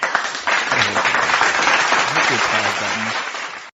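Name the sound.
applause sound effect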